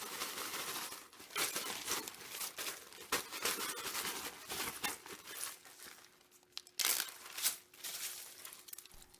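A bag of frozen chopped spring onions is squeezed and crushed by hand, giving loud, close crinkling and crunching in repeated bursts, with brief pauses between squeezes.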